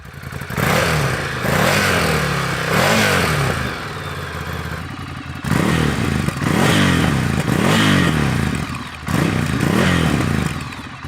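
A 2022 Ducati Scrambler motorcycle engine with twin exit exhaust revs repeatedly with a deep, throaty exhaust note, rising and falling in several loud bursts with short pauses between.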